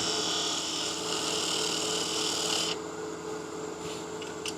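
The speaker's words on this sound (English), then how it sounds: "We'll do some planing cuts to get a cleaner surface" A gouge takes planing cuts on a spinning wooden salt and pepper mill blank on a wood lathe, a steady hissing shear over motor hum that drops in intensity as the tool lifts away.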